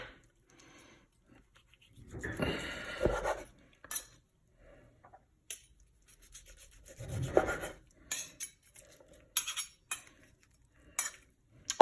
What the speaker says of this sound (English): carve this up with my super dull knife into some little slices